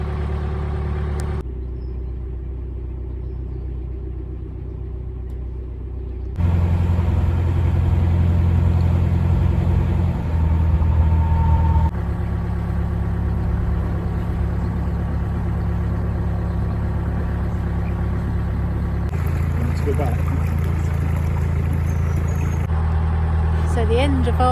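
Narrowboat engine on the Shropshire canal, a steady low idling chug that grows louder partway through as the boat approaches, with a person talking over it at times.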